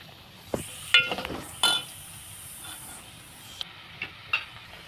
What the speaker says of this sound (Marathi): वाटून कांदा पण छानपैकी तेलामध्ये फ्राय झालेला आहे.